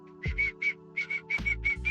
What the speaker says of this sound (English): Just whistle them in.